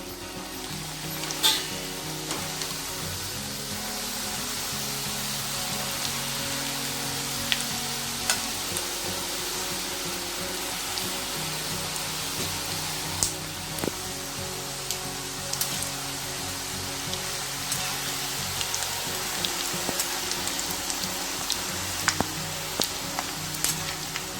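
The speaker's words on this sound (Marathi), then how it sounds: "आता मी शंकरपाळ्या तळून घेणार" Savory shankarpali dough pieces deep-fry in hot oil, giving a steady bubbling crackle like light rain, with occasional soft clinks and pops scattered throughout at moderate loudness.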